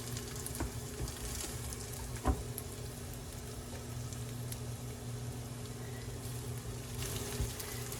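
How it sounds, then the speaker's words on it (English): Salmon burger patties sizzling in a frying pan, a steady, faint crackling fry with a few small pops, heard close and without talk. "There, we got some sizzle."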